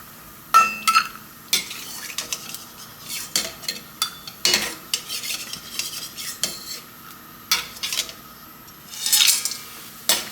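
Cashews for a one-pot pulao frying in a pot, with soft sizzling under frequent sharp clinks and scrapes of a metal spoon stirring, close by.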